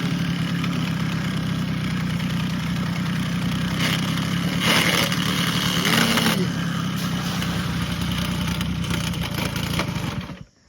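An old moped engine, revived after more than 40 years off the road, idles steadily and close up with a low, even putter for about ten seconds before cutting off abruptly at the end.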